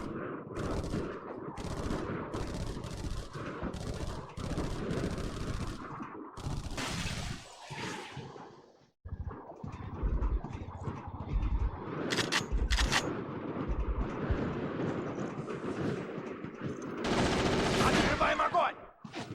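Rapid automatic weapon fire and scattered single shots in a multiplayer shooter game continue loudly almost without pause, with a brief drop near the middle and sharp impact cracks later on, mixed with occasional talking.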